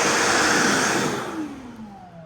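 EGO cordless vacuum on turbo in blower mode, a loud rushing whoosh of air with a motor whine that winds down and drops in pitch as it switches off, nearby and alone.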